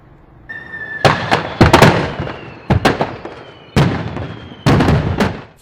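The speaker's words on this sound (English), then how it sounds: "Fireworks, the homemade and illegal kind, heard and seen for miles as they exploded Friday night" Loud blasts of homemade illegal fireworks crackle and boom at night in several bursts, each a sharp crack followed by rapid popping, with brief quiet gaps between volleys.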